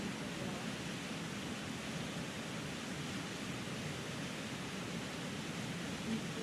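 Steady, broadband rush of a Catskills waterfall, constant and fairly distant, an even wash of falling water with no other sounds.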